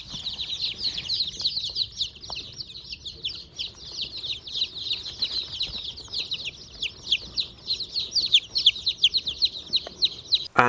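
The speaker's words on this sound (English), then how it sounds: "a small flock of variety of heritage breed hens" A small flock of heritage breed hens with chicks on a farm: a constant chorus of high, rapid cheeping from many birds, close and lively, with a few soft clucks and faint rustles beneath.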